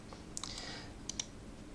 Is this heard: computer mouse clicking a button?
yes